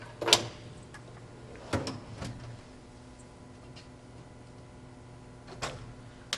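Drawers on a classroom podium are shut, with a few sharp knocks and clacks spaced out against a quiet room hum, one bump near the start and others scattered later.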